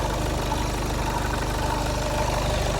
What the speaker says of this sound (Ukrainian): Ось працює двигун, звичайний 150 конний двигун.